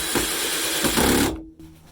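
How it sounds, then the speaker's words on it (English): A screw is driven through a plastic bracket into a wooden backboard, heard as a close, continuous grinding whir with a couple of brief surges, then a sudden stop and faint handling noise. "Just put the bracket on there and screw it in."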